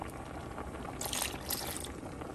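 Water pours into a pot of squash and vegetable soup, a short bright splashing and gurgling burst at close range that stops and starts again briefly, over faint kitchen background.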